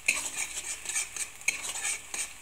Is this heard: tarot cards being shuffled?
no